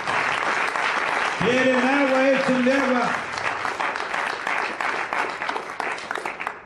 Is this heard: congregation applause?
yes